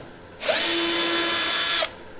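A power drill spins up and runs steadily for about a second and a half on the back panel screws of a 1969 Lincoln Idealarc 250 welder, then stops, loud, close and alone.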